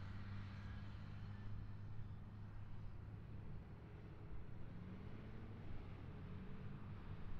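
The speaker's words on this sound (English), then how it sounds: "I'm sure you guys can hear that traffic now." Road traffic near Raleigh Durham International Airport rumbles at a distance, a faint, continuous low drone of passing vehicles with no talk.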